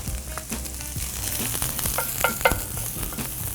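Chopped onions and garlic sizzle in oil in a heavy cast iron pan, a steady close crackle with a few scrapes and knocks of stirring.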